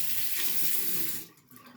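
Tap water runs steadily into a sink as the face is wetted during a skincare routine, then it stops abruptly near the end.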